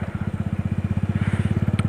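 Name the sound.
Suzuki Bandit motorcycle engine passing by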